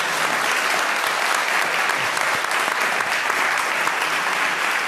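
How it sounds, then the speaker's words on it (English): A conference audience at a social prescribing event gives a round of applause for international partners, a loud, continuous crowd clapping that stays steady and full for several seconds. "So a round of applause for our international partners for joining us today."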